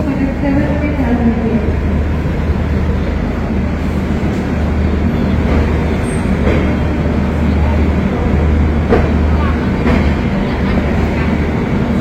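The 12277 Puri Shatabdi Express, Howrah to Puri, heard from inside while running: a loud, continuous low rumble with rhythmic wheel clatter and rattling carriage, steady throughout, with faint voices in the background.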